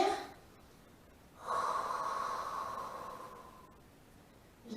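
A person breathes in during a Pilates exercise with a ball, a single long, loud, airy inhalation lasting a couple of seconds, close to the microphone, with another breath starting at the end.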